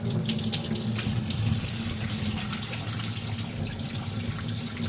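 Steady rush of water pouring into a sink while bulk washing grapes, continuous and close, with a low hum beneath and no talking.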